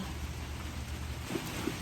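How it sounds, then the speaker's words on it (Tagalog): Steady rain hisses and patters evenly, with a low rumbling undertone and no voices, a continuous close downpour. "Yan, medyo lumalakas na yung ulan."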